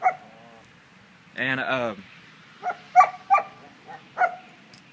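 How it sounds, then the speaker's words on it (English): Two dogs, a German Shepherd and a mixed-breed mutt, give a few short, sharp barks and yips close by, with a longer whining burst in the middle and a voice briefly speaking. "there's the two dogs"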